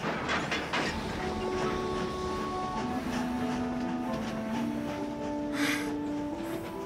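A departing train in the animated series My Little Pony: rumbling train noise with rolling rail clatter and steady tonal whines, continuous and moderately loud throughout, no voices.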